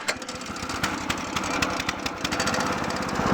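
A walk-behind tractor fitted with a new adapter runs in first gear, its engine chugging steadily and loudly close by, with no voices.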